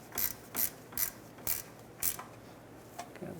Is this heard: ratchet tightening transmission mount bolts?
yes